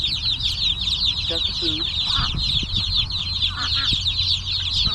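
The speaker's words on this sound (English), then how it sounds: "So these are our chicks." Young chicks in a brooder peep loudly and continuously in a dense high chorus, with a person talking briefly over them.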